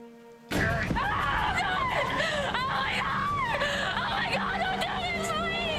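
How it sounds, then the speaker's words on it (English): A woman screams and whimpers in distress in a daytime TV soap drama scene, the loud cries continuing steadily after a brief quiet start, mixed with voices. "Screaming."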